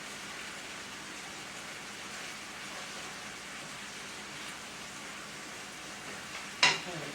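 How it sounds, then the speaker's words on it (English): Hamburger meat frying in a pan as its fat renders out, giving a steady, even sizzle throughout, with a single sharp clink near the end. "this is rendering off some of that fat"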